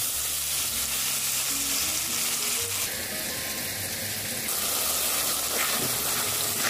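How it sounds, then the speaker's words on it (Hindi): Masala for chicken aloo sizzles in a pan, a continuous close frying hiss with occasional stirring scrapes and soft low thuds, growing slightly brighter partway through. "मसाला को भूनते हुए तकरीबन 10 मिनट हो गए हैं"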